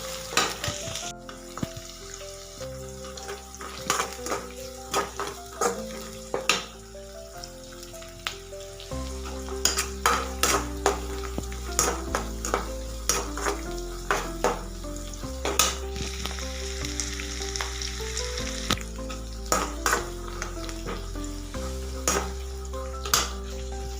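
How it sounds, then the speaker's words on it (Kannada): Spices, peanuts and curry leaves crackle and sizzle in hot oil for a South Indian chitranna tempering, a steady frying hiss with stirring scrapes and occasional clinks of utensils against the pan, close and continuous. "ಈಗ ಒಗ್ಗರಣೆ ಮಾಡ್ಕೊಳ್ತಾ ಇದ್ದೀನಿ ನೋಡಿ."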